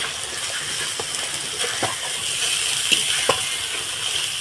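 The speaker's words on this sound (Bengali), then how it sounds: "দিয়ে মশলাটাকে আমি ভালোভাবে কষিয়ে নেব।" Spice paste with turmeric powder and salt fries in a pan for a spicy onion dish, giving a steady close sizzle broken by a few sharp scraping clicks of stirring.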